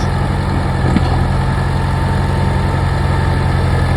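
A bulldozer engine runs steadily with a deep, loud idle-like drone and constant vibration while clearing a pad for a timber mill, with no change in pitch or pauses.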